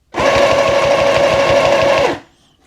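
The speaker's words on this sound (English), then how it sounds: "it's stitching perfectly with the 4 layers" A Vevor sewing machine stitches steadily through four layers of fabric, a loud, even motor whir with fast needle clatter running for about two seconds before stopping.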